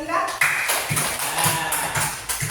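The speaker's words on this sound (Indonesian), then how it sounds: "tepuk tangan dulu buat Mbak Zafira" A class claps for Mbak Zafira, giving a run of rhythmic hand claps about twice a second, close and fairly loud, with voices talking over them.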